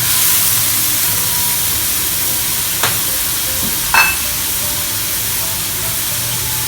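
Pork liver with banana peppers sizzles steadily in a hot pan during stir-frying, a continuous close hiss with a couple of brief spatula scrapes.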